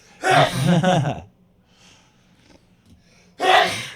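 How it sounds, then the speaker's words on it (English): A man sneezes twice, close and loud, with two forceful bursts separated by a few seconds of near silence. "Well, first I gotta sneeze."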